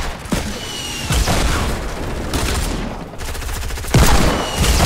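Rapid pistol gunfire in a Fortnite match, volleys of sharp close shots with heavy booming reports, bursts separated by short gaps and continuing near-constantly throughout.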